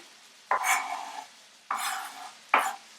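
Peppers stir-fried in a pan, with three separate bursts of scraping and sizzling as a utensil pushes and flattens the vegetables, each fading before the next.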